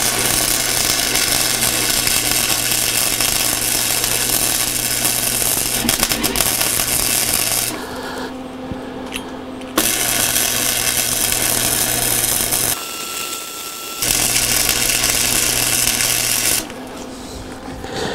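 Shock mounts are welded onto a buggy with a loud, continuous buzzing crackle in long runs, cut by brief pauses where a lower mechanical hum carries on.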